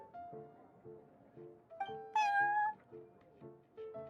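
A cat meows in the Genshin Impact video game, one clear rising meow over a steady, soft, repeating musical background.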